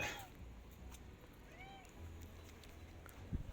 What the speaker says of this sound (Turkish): bu kedicik gene karşıma çıktı